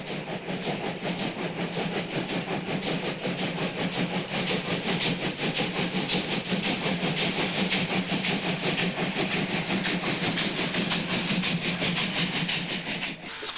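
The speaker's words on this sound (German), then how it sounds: "Die Dampfjumbos im Ruhrgebiet sind für sie noch einmal vor schweren Zügen unterwegs." A heavy steam locomotive labours past in the Ruhr area with a steady, rhythmic chuffing and rolling clatter of heavy wagons, loud and continuous from start to finish.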